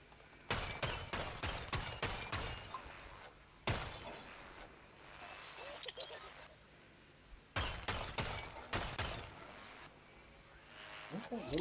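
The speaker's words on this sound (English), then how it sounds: "He's shooting at him." Gunfire in Plants vs. Zombies Garden Warfare, a rapid volley of sharp shots in two bursts with a short gap between them, close and fairly loud, under quiet talk.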